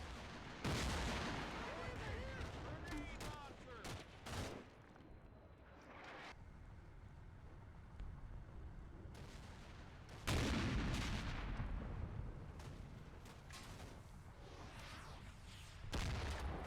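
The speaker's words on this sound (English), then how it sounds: "I've got to open fire because they're getting awfully close." In the Combat Mission: Black Sea combat game, heavy gunfire and booming volleys break out in loud bursts near the start, around the middle and at the end, with sustained rumbling battle noise between them.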